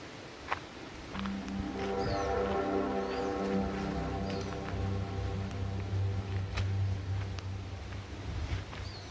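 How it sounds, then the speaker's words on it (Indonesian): Strong wind gusts through trees, a steady broad rushing roar that swells and holds across the whole stretch, with a low droning tone and a few faint bird chirps underneath. "Angin mulai kencang."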